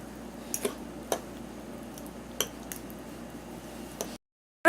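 Zucchini bread batter stirred slightly in a bowl, a quiet soft background broken by a few sharp spoon taps and clinks against the bowl at irregular intervals, then a short silence and one final clink.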